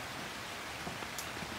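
Steady rain drums on a Clam tent on a wet morning, an even hiss of drops on the fabric with a few closer taps, heard from inside.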